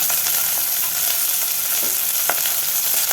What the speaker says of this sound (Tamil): எல்லாம் நல்லா கொஞ்சம் வதக்கி விட்டுக்கலாம்